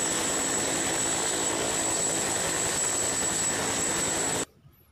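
A steady, buzzing whir of a toy helicopter runs loud and unbroken for several seconds, then stops suddenly into near silence.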